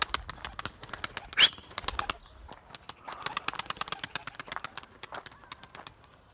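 A young blue pigeon on its second solo flight takes off with a sharp burst of wing claps, followed by rapid fluttering wingbeats that come in quick clattering runs, close and fairly quiet outdoors.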